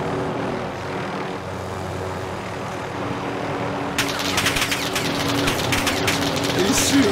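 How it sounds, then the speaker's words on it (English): A helicopter in a video game drones steadily throughout, a dense rotor-and-engine rumble that grows louder and brighter partway through. "Get the helicopter."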